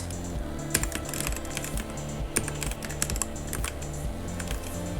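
Keys on a computer keyboard are typed in a steady run of quick, close clicks and taps with a faint background hum and no talking.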